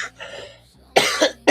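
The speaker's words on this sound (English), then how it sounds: "First I coughed" A person with a head cold coughs, a faint throat sound followed by two hard, close coughs and then a third starting, with no talking.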